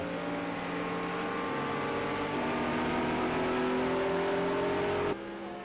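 GT race cars in Project Cars 2 on a Portuguese circuit roar together at sustained high revs, overlapping engine tones droning loudly and steadily before easing off near the end.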